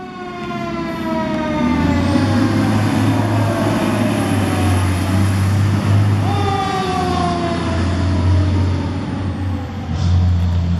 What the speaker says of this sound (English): You like watching your fire trucks,